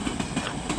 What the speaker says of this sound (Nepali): फाइनल्ली ट्रेन आइसक्यो गाइज